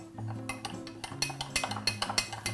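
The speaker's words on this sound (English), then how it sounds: "Give this a good stir." A spoon stirs a cornstarch and water slurry for brown sugar syrup, giving quick, irregular metallic clinks against the bowl over steady background music.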